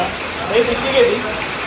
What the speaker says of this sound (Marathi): जोरात पावसाला सुरुवात झाली